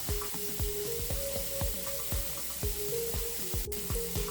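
Stirring salted boiled quinoa in a pan, with a rapid series of soft scraping strokes over a low sizzle, close and steady throughout.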